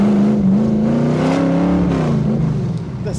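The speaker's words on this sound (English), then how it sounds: "The sound of this car" A 1967 Shelby AC Cobra engine revving loud and close, a deep steady growl that rises and falls in pitch over about three seconds, with faint voices underneath.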